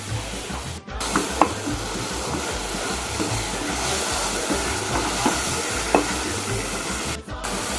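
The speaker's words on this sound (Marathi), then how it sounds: "मसाला फ्राय होत असताना मी ह्याच्यामध्ये चवीनुसार मीठ टाकणार आहे." Masala for a traditional clam curry fries in oil: a loud, steady close-up sizzle runs throughout, with occasional scrapes and clinks of stirring and no voices.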